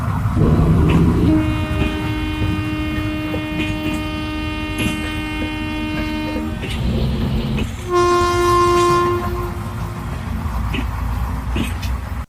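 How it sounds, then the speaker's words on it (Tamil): A loud Indian train horn sounds in long sustained blasts, then pauses and returns with another strong blast, droning steadily over low rumbling background noise. "ரெண்டு லாங் ஹார்ன் அண்ட் ரெண்டு ஷார்ட் ஹார்ன்ஸ் இதை அவங்க அடிக்கிறாங்க"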